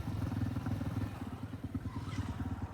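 A motorcycle fitted with Jawa exhausts, the same pipes once used on a GT 650, burbles at idle in a pulsing low-pitched rhythm. It sits fairly close and steady amid faint street noise.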